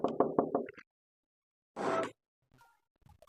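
A quick burst of four sharp knocks raps on a gate, loud and close, then a pause followed by a brief scraping rattle and some faint scattered sounds.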